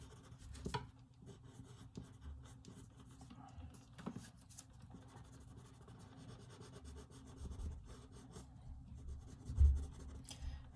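A Star-Joy gold colored pencil shades lightly on paper, giving a faint, steady scratchy rubbing of soft strokes close up with a few slightly firmer taps.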